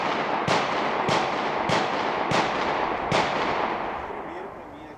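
A.S.M. 1860 Army black powder revolver fired at a target 20 yards away: five sharp shots about 0.6 seconds apart over a steady background hiss, with the noise fading after the last report.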